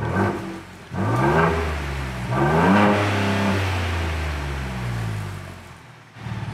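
A new Ford Bronco fitted with an upgraded exhaust revs up several times, its deep rumbling engine rising and falling in close, loud surges before easing back to a steady idle.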